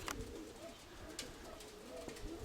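Pigeons, steel-grey bar-tailed birds, coo softly and repeatedly nearby, with light flutters and thumps as they settle and land, against a steady outdoor background.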